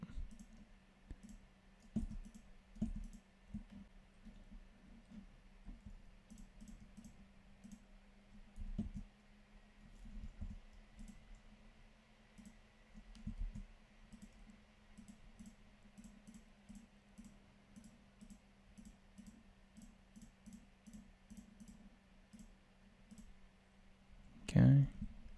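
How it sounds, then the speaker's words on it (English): A computer mouse clicks repeatedly while someone paints in Photoshop, giving faint, irregular clicks scattered through a quiet room, ending in a louder thump. "And now I'm just clicking away."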